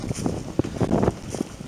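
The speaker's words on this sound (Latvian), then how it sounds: "ir sacēlējis drusku vējš" Gusty wind buffets the microphone in uneven low rumbling bursts, close and fairly loud, with no voices.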